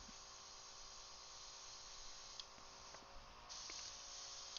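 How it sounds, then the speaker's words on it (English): An airbrush sprays paint onto a paper towel, giving a steady, faint hiss that swells and shifts a few times as the flow is adjusted, with no talking. "check my spray and my flow until I get it going"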